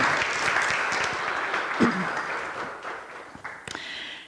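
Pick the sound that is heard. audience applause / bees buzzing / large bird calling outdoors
audience applause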